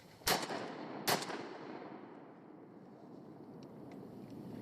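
Two loud shotgun blasts fired at ducks during a late-October duck hunt on high water in Wisconsin, spaced under a second apart, each trailing off into a long outdoor echo, with no talking.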